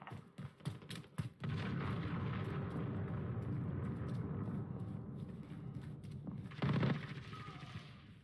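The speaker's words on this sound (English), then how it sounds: "Enemy cruise missile Yeah, incoming." A heavy, sustained rumble of in-game explosions rolls through a Call of Duty: Modern Warfare multiplayer match during an enemy cruise missile strike, opening with sharp cracks before a long roar and a late, louder blast.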